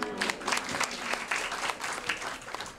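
Audience applause at a training session for community welfare volunteers, a burst of clapping from a modest group with uneven individual claps, moderately loud and lasting a few seconds without speech.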